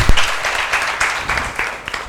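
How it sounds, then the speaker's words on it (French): A crowd applauds at a kindergarten gathering in Bondoukou, steady clapping at fairly close range with a few louder bursts and no voices on top. "On peut s'applaudir, chers amis."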